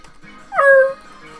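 A single short dog bark or yip from the Undertale video game, clear and brief over a quiet background.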